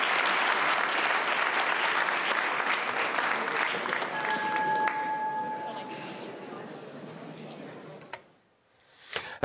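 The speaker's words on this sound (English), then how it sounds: "So let's have another round of applause and wish the best for the Syrians" Dense applause from a conference audience after a panel at the Munich Security Conference, loud at first and gradually tapering off, with a faint sustained tone midway and a few scattered claps as it fades out.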